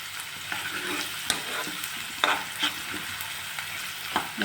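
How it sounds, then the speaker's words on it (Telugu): Chopped onions frying in hot oil in a pan for tomato masala curry, a steady close sizzle with occasional stirring scrapes and small pops, no talk. "మళ్ళీ పాన్ పెట్టి కొంచెం నూనె వేసుకొని చిన్నగా తరిగిన వేసుకోవాలి"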